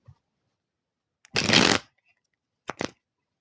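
Cards are riffle-shuffled in a quick crisp burst, followed by a couple of shorter flutters and taps, close up with no talking.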